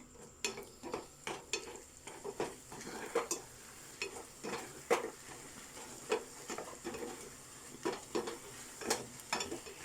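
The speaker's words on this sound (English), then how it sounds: "So now I'm gonna mix the tomato masala with our pasta." Spoon stirring tomato masala through macaroni pasta in a pan for an egg macaroni dish, producing repeated scraping, clinking strokes in a steady rhythm over a soft sizzle, close and moderately loud, with no talking.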